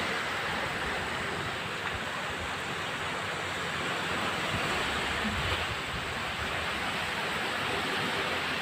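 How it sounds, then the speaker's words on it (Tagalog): Sea waves at Barangay Tiguan in stormy, drizzly weather, a constant broad wash of surf with wind noise, steady and fairly loud with no talking. "Ang dagat guys."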